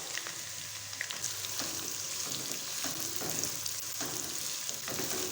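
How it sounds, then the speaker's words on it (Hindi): Two medium onions, finely chopped, fry with ginger-garlic paste in a pan, giving a steady close sizzle with faint crackles and occasional stirring, no talking. "तो हम अच्छे से फ्राई करेंगे।"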